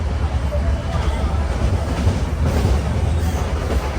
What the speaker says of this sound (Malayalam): ട്രെയിൻ ഇപ്പം 100 km/h തന്നെയാണ് പോകുന്നത്.